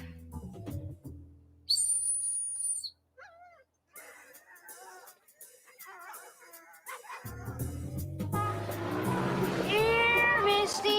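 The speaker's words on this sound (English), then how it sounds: "Found the whistle." A high, steady whistle blast sounds briefly, followed by warbling whistle notes and rustling movement, then a rising mix of animal-like cries and noise.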